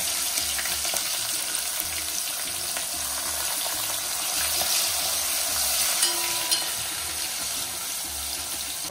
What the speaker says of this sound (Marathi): कांदा परतून झाला, आलं लसूण टाकणार आहे, म्हणजे ते पण आपलं छान परतून होईल।